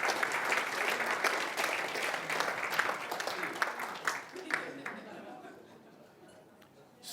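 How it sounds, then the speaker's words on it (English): An audience at a motivational training session claps in a full round of applause that gradually thins and fades out over the last couple of seconds. "Give him a round of applause,"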